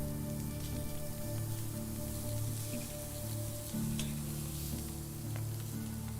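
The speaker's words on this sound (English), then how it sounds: "We're going to cook some roasted meat." Roasted meat sizzles over a campfire in the medieval survival game Medieval Dynasty, a steady crackling fry under a low, continuous game ambience and humming music tones.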